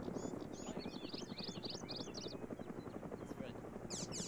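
A helicopter's rotor chop beats steadily in a military shooter game, fairly close, with faint chirping and chatter layered over the continuous thudding drone.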